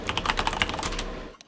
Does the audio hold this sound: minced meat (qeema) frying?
no